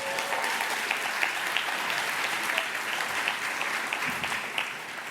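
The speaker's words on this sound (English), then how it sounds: "Let's give another round of applause for Anne" Audience at a philanthropy awards ceremony applauding steadily, a dense, even wash of many hands clapping at close range that holds throughout with no talk over it.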